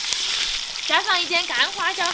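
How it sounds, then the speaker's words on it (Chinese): Pig trotters frying in a little oil in a wok, a steady crackling sizzle heard close up, with a voice speaking over it partway through. "把猪蹄蹄给它煎一下更香"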